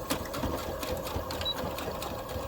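A sewing machine stitches a zipper with a steady, fast mechanical whir and needle clatter, close and moderately quiet, running continuously for a couple of seconds.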